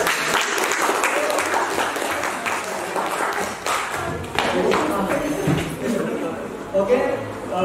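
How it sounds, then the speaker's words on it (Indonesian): A classroom of students applauding together after a lesson, a steady patter of clapping with voices mixed in. "tepuk tangan untuk kita semuanya"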